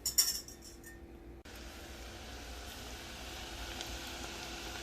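Wine and lemon juice stirred in a pot for beurre blanc: a few quick metallic clinks up front, then a steady, close sizzling hiss as the liquid heats.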